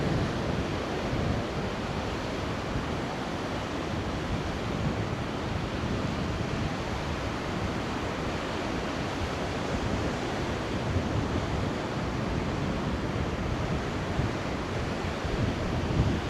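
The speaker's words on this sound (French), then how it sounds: "Ah, ça souffle hein, quand même." Strong wind roars across a beach while waves break steadily, a dense, constant wash of surf and wind noise buffeting the microphone throughout, with no voices.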